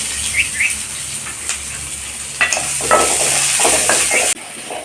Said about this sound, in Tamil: ஒரு கைப்பிடி அளவு வெங்காயம் அதில் சேர்த்திடலாம்